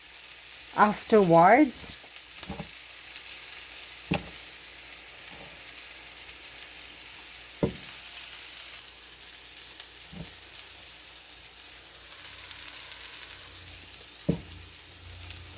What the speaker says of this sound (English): So you just like to stir it until the butter is melted